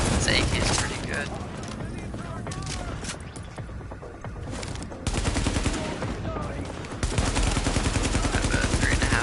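Bursts of AK rifle fire in a console shooter game, loud and close in dense rapid volleys with brief lulls, set among other game effects and speech.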